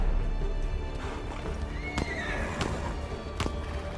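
A horse in the Mortal Kombat X story mode whinnies in a short neigh amid a dense cutscene soundscape of battle rumble and sharp impacts, moderately loud behind the action.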